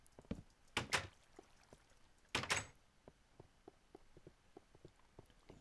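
A door thunks shut twice in a Minecraft-style cave, two loud bursts followed by scattered soft clicks and taps from small movements, with no talking.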